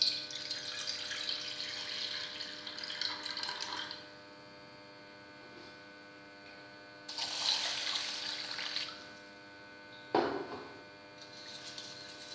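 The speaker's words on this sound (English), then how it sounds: "Wash the rice 2 or 3 times to remove starch from it." Basmati rice washed in water, with splashing and swishing bursts alternating with pauses over a steady electrical hum, closing with a sharp knock.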